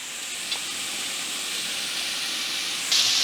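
Ham hitting a pan already holding onions, garlic and mushrooms over medium heat for an omelette, giving a steady close hiss of frying with a brief clack near the start and a sharper burst of sizzle near the end.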